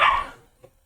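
A dog gives a single sharp bark up close, fading quickly into near silence.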